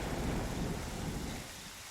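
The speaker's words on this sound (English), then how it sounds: "that rain sound, are they relaxing?" Steady rain with a low rumbling thunderstorm undertone, a continuous broadband hiss that eases slightly near the end, heard alone without voices.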